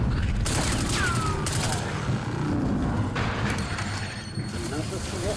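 Rapid, loud gunfire from a weapon in a zombies video game, sustained bursts crackling almost continuously through the clip, with a voice talking over the shooting.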